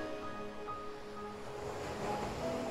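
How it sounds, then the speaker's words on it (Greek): Ocean waves breaking on a shore as a steady, moderately loud rushing wash that swells slightly toward the end, with no speech. "Να ακούς τα κύματα να σκάνε στην ακτή."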